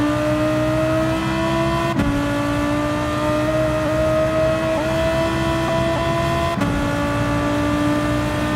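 A race car engine in Gran Turismo 7 during a Nations Cup round at Autopolis holds a loud, steady high-revving drone, with two sharp gear-shift breaks where the pitch briefly drops before climbing again.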